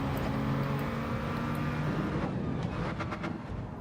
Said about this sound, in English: Just using second gear to slow the car just down slightly there, a little bit of engine braking.